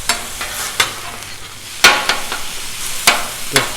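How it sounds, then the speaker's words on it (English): Meat and chopped veggies sizzle together on a Blackstone griddle for loaded taco fries. A spatula scrapes and flips at an uneven rhythm, giving close, loud metallic clacks over a steady frying hiss. "I'm going to throw the veggies in with the meat so we can all just cook up together."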